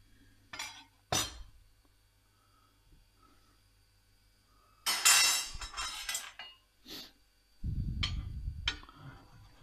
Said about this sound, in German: ich werde eben hier die Butter etwas kleiner schneiden